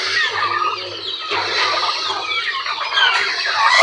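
Plymouth Rock chickens and turkeys on a farm cluck and gobble close by in a busy, continuous chatter of overlapping bird calls.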